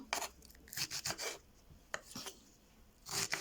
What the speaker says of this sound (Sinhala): මම දැන් ස්ට්‍රෝබෙරි කපන්න යන්නේ.